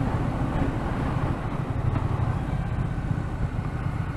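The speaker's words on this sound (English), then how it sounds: "engine braking's very nice" A Triumph T120 Bonneville motorcycle engine braking on the road, a continuous low, rumbling engine drone with steady wind roar, loud and close, with no clear gear changes or pauses.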